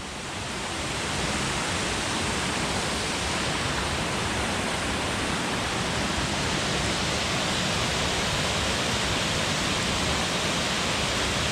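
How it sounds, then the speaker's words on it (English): Rushing water of a creek near Dog Slaughter Falls, a steady broadband roar of flowing and falling water that fills the scene continuously with no voices. "And the river is behind me"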